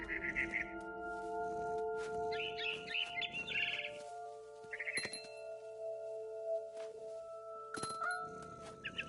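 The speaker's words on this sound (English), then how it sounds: "Then I heard chirping outside my window. It was a barn swallow going back to her nest." Barn swallow chirping outside a window in What Remains of Edith Finch, bright repeated chirps in short bursts over a steady game ambience with sustained tonal hum.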